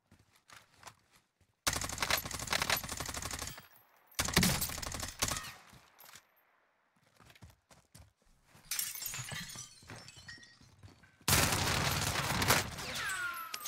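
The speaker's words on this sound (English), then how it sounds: "I missed a few shots with that XM4 though" An XM4 assault rifle fires in Call of Duty Cold War Warzone. The shots come in several loud, dense bursts of rapid fire, separated by short quieter gaps with scattered smaller sounds.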